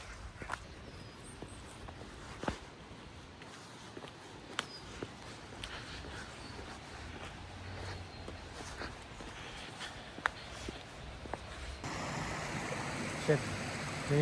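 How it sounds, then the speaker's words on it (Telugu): Water from a stream in a Scottish park rushes steadily in the background, a faint continuous wash with occasional footsteps and light knocks over it. "నేను ఈ సౌండ్ని వాటర్ ఫాల్ అనుకున్నాను."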